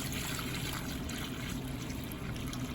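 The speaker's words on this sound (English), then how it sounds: "Add a little bit of water to this mess." Water pours and trickles steadily into wet, gritty sediment in a kettle lake demonstration model, a continuous close-up splashing and gurgling.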